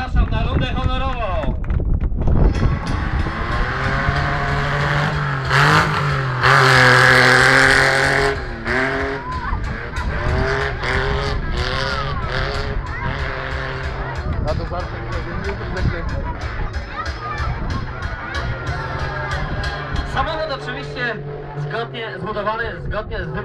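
Historic autocross race car built around a Ford V6 engine, driven on an honorary lap at an autocross event, its engine droning and rising steadily throughout with wind buffeting the microphone and someone talking over it.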